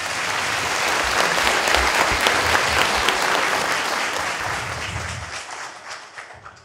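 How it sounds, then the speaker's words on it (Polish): A charity concert audience claps warmly and densely, holding full strength for several seconds before tapering off toward the end. "Jeszcze raz wielkie brawa."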